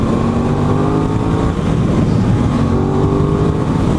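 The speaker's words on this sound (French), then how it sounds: "Le bicylindre j'adore, mais là du coup il faut vraiment monter dans les tours pour avoir un joli bruit." A twin-cylinder motorcycle engine held at high revs, a loud continuous drone close by.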